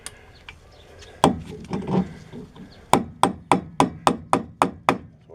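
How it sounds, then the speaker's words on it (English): A hammer taps a rusty rear brake rotor onto a 2007 Chevy Impala: a few scattered knocks, then a steady run of about nine sharp, evenly spaced metallic strikes, close and loud. "I'm going to tap that in with a hammer"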